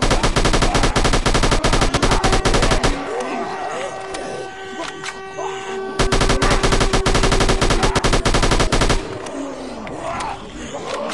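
Rapid automatic gunfire from an AR zombie shooting game rattles loudly in long sustained bursts, with a short lull between them, and voices can be heard in the mix.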